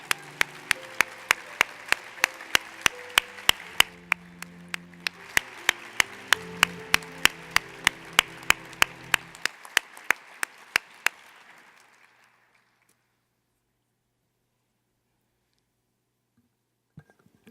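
An audience at an arts awards ceremony claps for award winners making their way to the stage, a dense, steady ovation with sharp claps that swells for about eleven seconds, then fades quickly into silence.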